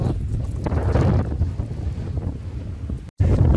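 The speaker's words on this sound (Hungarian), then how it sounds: "Érthetetlen ez a brutális északi szél." A strong north wind on the French coast of the Maritime Alps buffets the microphone with a loud, continuous low roar and gusts, broken by a brief dropout near the end.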